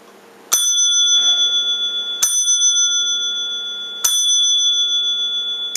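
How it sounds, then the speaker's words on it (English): A bright bell is struck three times at even intervals of about two seconds, each ring sharp and loud and lingering with a sustained metallic tone until the next strike, with no talking. "I would say 3 bells."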